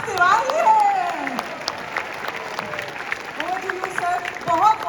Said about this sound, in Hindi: तालियां रुकनी नहीं चाहिए क्योंकि मंच पर हमारे साथ श्री मनोज तिवारी है।